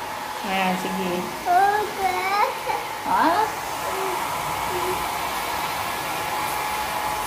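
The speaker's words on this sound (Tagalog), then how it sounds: "Kaya binili ko tong dryer para po sa kanya." A hair dryer blows steadily throughout, drying a child's hair, with a voice and giggles briefly heard over the whirring airflow.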